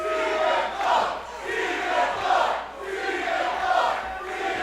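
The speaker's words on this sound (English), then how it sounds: "you can hear the crowd right off the jump show their support for Stephen FLOWE" A wrestling crowd at a Juggalo Championship Wrestling event roars and cheers in swelling waves, loud and continuous throughout with chanting-like surges and no clear speech.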